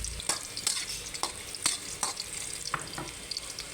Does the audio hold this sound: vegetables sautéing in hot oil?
yes